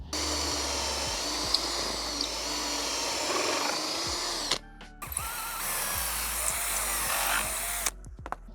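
A power drill runs steadily for several seconds boring a pocket hole in wood, briefly stopping and restarting as the bit is pulled back and pushed in again.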